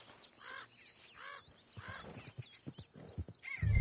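Horses in Red Dead Redemption 2 whinny and snort a few times, followed by a run of clip-clopping hoofbeats that grow louder near the end, with faint birdsong in the background.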